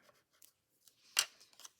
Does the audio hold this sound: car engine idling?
no